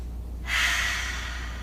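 A single audible inhaled breath taken during a gentle yoga session, a soft airy intake rising and fading over about a second, close to the microphone.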